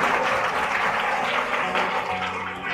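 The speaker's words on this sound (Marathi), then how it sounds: "सर्वांनी जोरदार टाळ्या वाजवून त्यांचं अभिनंदन करायचं आहे" Sustained applause from an audience honouring company officials at an educational kit distribution and WASH project event, a steady dense wash of clapping throughout with no pauses.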